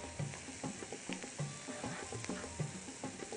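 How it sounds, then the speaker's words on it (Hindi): Spinach sautéing in a pan, a soft sizzle under a quick, irregular run of stirring taps and scrapes from a spoon moving through the leaves. "पालक को आप थोड़ा सा इसमें सोटे करें, यानी थोड़ा सा फ्राई करें कि वो पकना शुरू हो"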